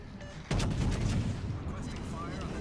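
Battleship secondary guns firing in World of Warships on the Scharnhorst, a sudden loud boom of cannon fire followed by rumbling, overlapping reports that fade into a sustained low roar.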